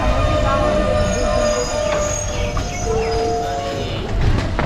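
Train pulling through Nagrakata railway station, wheels squealing on the rails amid steady rumbling carriage noise, close and continuous, with faint background voices.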